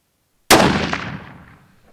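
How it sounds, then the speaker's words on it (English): A single sharp, loud rifle shot fired from a cold bore during long range load testing, starting after brief silence and fading in a long decaying echo. "That first shot was a cold bore shot."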